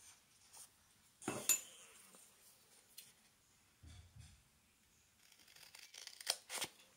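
Scissors snip through a paper planner header at the desk, a few short crisp cuts between quiet rustles and light handling of paper, with no talking.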